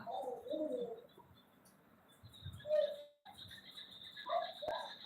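Pigeons cooing, heard as a few soft, low, throaty coos spread across several seconds, with faint background noise and high chirps in between.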